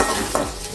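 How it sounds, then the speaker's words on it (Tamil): A soft, steady sizzle of onions sautéing in a pan, with a faint stir or scrape partway through, close by and without talk. "இந்த வெங்காயம் நல்லா வதங்கணும்"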